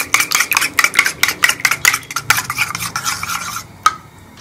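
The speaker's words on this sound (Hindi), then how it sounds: "तो मैं अंडे को अच्छी तरह से फेंट लूँगी।" Eggs beaten briskly in a bowl with a utensil for shami kabab, a fast run of clattering, scraping strokes in quick rhythm that slows and stops, ending with one last tap.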